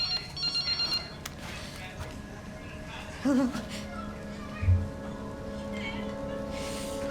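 A telephone rings in short repeated bursts early on in the video game Resident Evil Requiem, followed by a few electronic tones and thumps over a low ambient hum.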